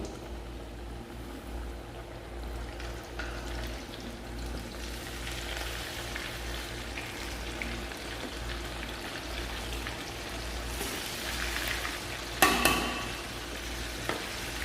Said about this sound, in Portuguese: ele vai passar aqui pelo menos 20 a 25 minutos fritando